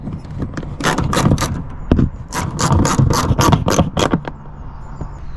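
Screws being refitted on an Audi A3 8P tail light trim, a close series of rapid ratcheting clicks in bursts with brief pauses between turns.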